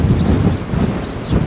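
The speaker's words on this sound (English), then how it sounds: "It's a bit windy today." Wind buffeting a microphone outdoors beside a vegetable patch, a steady low rumble with gusty swells throughout.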